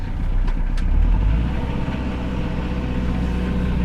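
A steady rumbling Kubota KL46 46-horsepower tractor engine runs loud and close throughout, a low chugging drone with no break.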